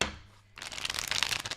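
A deck of tarot cards is shuffled close up: a brief quiet moment gives way to a rapid, papery riffling burst that continues to the end.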